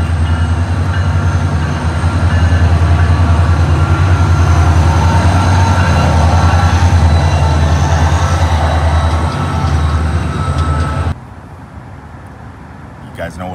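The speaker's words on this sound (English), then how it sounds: "Maybe this is just our regular Florida choo-choo train." A SunRail commuter train in Florida rumbles past loud and close in a steady roar of wheels and rail noise for about eleven seconds, then cuts to a quieter scene.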